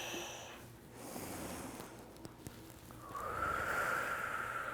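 Audible breathing in and out during slow shoulder rolls in a senior yoga class, soft airy breaths close to the mic, ending in a longer whistling exhale.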